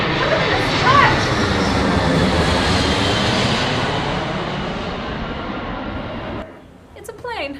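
An airplane passes overhead during a big outdoor event, a loud, broad roaring engine drone that slowly fades away before cutting off, with people talking faintly underneath.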